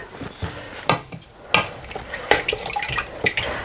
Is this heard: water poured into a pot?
yes